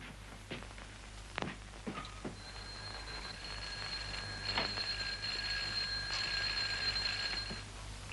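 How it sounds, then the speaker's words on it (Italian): An electric doorbell rings in a 1933 black-and-white comedy film, a steady metallic bell tone held for several seconds over a low hum, after a few soft knocks or footfalls. "Suona il campanello, c'è tua moglie."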